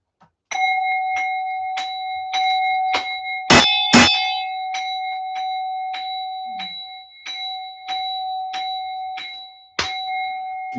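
A bell rings at a pagan temple during a native-faith Easter rite. It is struck in a steady series of clear, sustained metallic tones, with two loud, heavy clangs near the start and one more near the end, all close and ringing out without speech.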